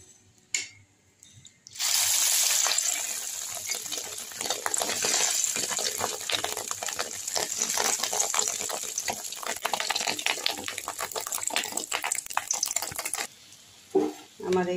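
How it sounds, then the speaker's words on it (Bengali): Fritter batter made with fish eggs goes into hot mustard oil in a kadai and bursts into a loud, crackling sizzle. The frying stays steady for about eleven seconds and stops abruptly near the end. "আমি এইবার কড়াতে সর্ষের তেল দিয়ে গরম করছি। এই ব্যাটারটা এখন সর্ষের তেলে কড়াতে এখন দিব।"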